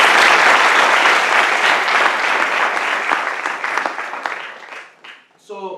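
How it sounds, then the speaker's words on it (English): A crowd applauds steadily for several seconds, the clapping loud and dense before tapering off near the end. "everybody give them a round of applause as well"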